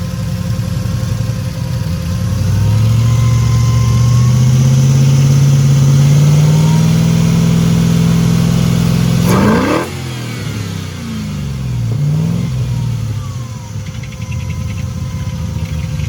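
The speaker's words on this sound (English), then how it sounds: "Does have the valve train clatter. Is that a little bit of grind and chirp?" An LS-swapped Chrysler Conquest engine revs up from idle, holds a loud high rev, then drops back to a rough idle with audible valve train clatter and a faint chirp, close and loud throughout.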